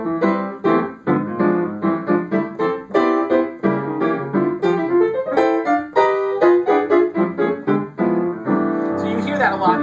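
Rich drop 2 block chords on piano are struck in a steady, lively rhythm, each chord ringing briefly before the next, played close and clear without voices.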